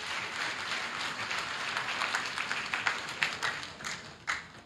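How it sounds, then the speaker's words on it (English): An audience at a healing service claps hands in a steady, dense patter of many palms, with a few sharper, louder claps standing out near the end. "Clap your hands for him."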